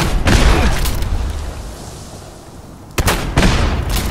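Heavy cannon fire rumbles aboard a pirate ship being boarded in the video game Fallout 4, a deep booming blast that fades out, then two more sharp booms close together.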